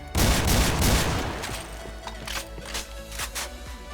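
Gunfire from a gun in a shooting video game starts with a loud rapid burst, then several sharper single shots follow, each with a short ringing tail, close and dominant.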